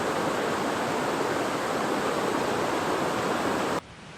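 A river waterfall on a remote backcountry river roars nearby as a dense, steady wash of rushing water, loud and unbroken until it drops away abruptly near the end.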